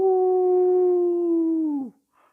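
A silver wolf's howl from a fantasy audio novel: one long, steady, tonal howl lasting nearly two seconds that bends downward at the end and cuts off, followed by a faint trailing sound.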